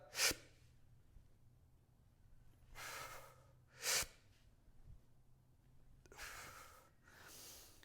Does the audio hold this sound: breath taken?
yes